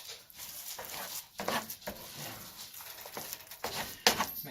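Crab cake mixture is stirred in a bowl, giving soft wet scraping strokes with occasional clinks against the bowl, close up and fairly quiet, with no talking.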